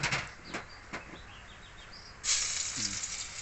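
Garlic and pork sizzling in a hot pan, with a burst of louder frying partway through as the ingredients are added, and faint scraping of stirring.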